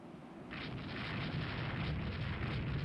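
Heavy naval gunfire from a warship's turrets in the Rule the Waves 3 naval game, a loud sustained rumbling roar that swells up after a quieter start and keeps booming steadily with no voices.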